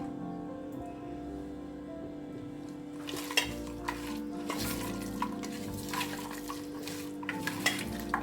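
Potatoes frying in a pan of oil for a Bengali fish, greens-stem and potato chorchori, a steady sizzle that grows denser partway through, with occasional clinks of a utensil against the pan.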